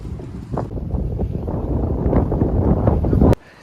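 Strong wind buffets the microphone outdoors in Shandong, a loud, steady roar with gusting surges that cuts off abruptly near the end.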